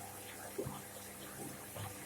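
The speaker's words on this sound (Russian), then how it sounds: "Сейчас машинка еще набирает воды." A washing machine draws in water with a quiet, steady hiss of filling and soft trickling.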